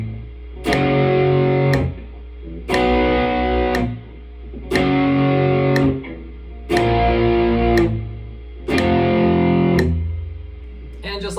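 Power chords strummed on a distorted electric guitar as a practice exercise, five loud sustained chords each held for about two seconds with short gaps, and a faint metronome click underneath.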